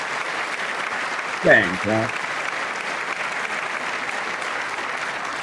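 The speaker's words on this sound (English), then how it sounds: "I wasn't sure if anybody even on this side was going to applaud for that." Applause from a State of the Union audience rolls on as a steady, distant roar of clapping, with a brief spoken interjection from a nearby voice over it.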